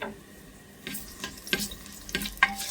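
Ginger and onion go into a hot oiled pan for a Filipino soup, hissing and sizzling with several sharp crackling bursts as they are stirred, close up and fairly quiet.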